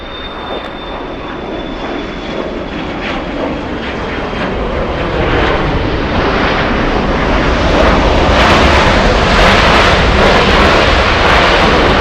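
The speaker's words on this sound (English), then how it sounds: "There you go, nice takeoff." A passenger airplane takes off from runway 24 Left at LAX, its jet roar loud and continuous and building steadily as it climbs away, with no voices over it.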